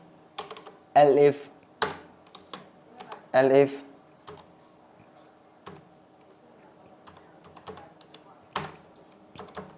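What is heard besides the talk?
typing on a computer keyboard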